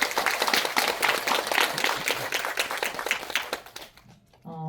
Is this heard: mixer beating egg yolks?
no